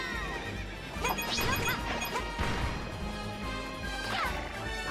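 Horse neighing and galloping hoofbeats in the video game Princess Peach: Showtime!, set among game music and crashing effects, loud and busy, with a neigh near the start and another toward the end.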